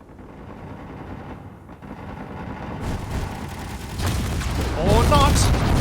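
Video game gunfire builds from a low rumble into bursts of rapid shots and booms that grow louder and denser toward the end, with someone talking over it.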